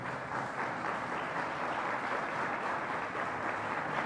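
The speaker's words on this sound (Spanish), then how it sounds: "Voy a pedirles para Noemí, para Jensi y para Paola otro fuerte aplauso" Live audience at a presentation event applauding the presenters, dense sustained clapping filling the room steadily for several seconds without a break.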